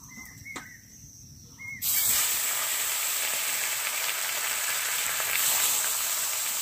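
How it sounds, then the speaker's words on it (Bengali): Pieces of a large native katla fish frying in a pan: a loud, steady hiss and crackle of oil starts suddenly after a short quiet opening and continues unbroken to the end. "মাছগুলো একটু লালচে করে ভেজে নিয়েছি, বাদ বাকি মাছগুলো ভেজে নেব।"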